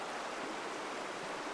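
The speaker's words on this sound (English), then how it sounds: "It's moving water, but it's so shallow, it's so rocky" A shallow, rocky trout stream in North Carolina flows with a steady, close rushing hiss, continuous and unbroken, with no voices.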